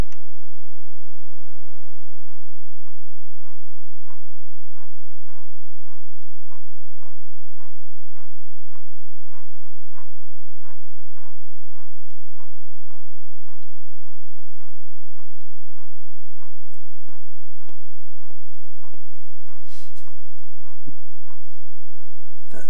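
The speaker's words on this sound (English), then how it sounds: "with the sound of apples being crunched" Recorded crunching of apples plays as a long, even series of sharp bites and chews at a steady rhythm, close and clear, with no talk over them.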